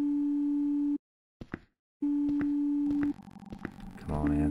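Steady electronic phone tone in the horror video game BIGHEAD, a sustained beep that drops out briefly and returns, with clicks and a voice speaking over the later part.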